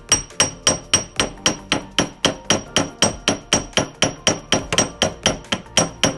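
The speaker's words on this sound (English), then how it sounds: "I hammer it to make it flat." Solder is hammered flat on a steel block with a small hammer, a steady run of about twenty-five sharp, evenly spaced metallic taps ringing out close and alone.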